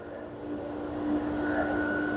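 An LG washing machine spinning at its 1200 RPM maximum, a steady whining hum with a sustained tone that swells slightly louder partway through.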